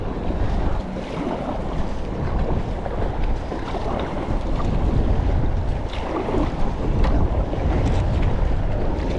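Gusty wind buffets the microphone while waves slap against a kayak on rough open water. The noise is a broad, continuous rush with small splashes and no voices.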